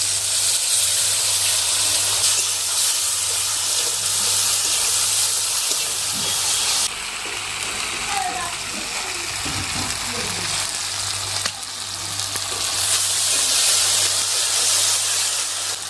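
Spice paste dropped into a hot pan of swollen chopped tomatoes with black cumin and dried chillies, a loud steady sizzle and hiss that dips briefly midway, close up with no talk.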